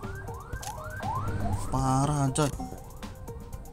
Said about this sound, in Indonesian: Wis ada ambulan coy, kenceng amat coy.